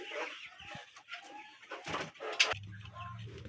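Australian doves kept in a breeding enclosure make soft rustles and faint chirps, followed by a low, steady cooing near the end.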